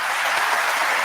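Audience applause fills the whole stretch, a steady dense clapping from a large crowd with no voices over it.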